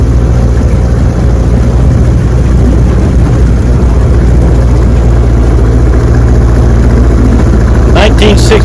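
A 1966 Johnson 9.5 horsepower outboard motor runs at a steady idle, its low droning hum loud and continuous throughout, with a brief clatter near the end.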